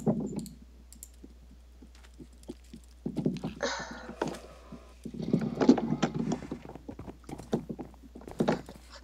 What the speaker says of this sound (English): your horse was so fast